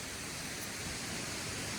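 A loud waterfall pours right beside a campsite, a steady, dense rushing roar that fills the whole moment without a break.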